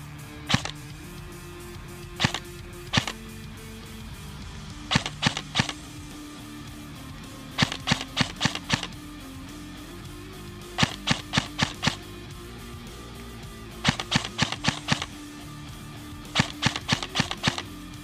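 Krytac airsoft LMG firing outdoors at a 60-metre range, sharp clicking shots in short bursts of two to four, repeating steadily over a continuous motor-like hum, with no talking.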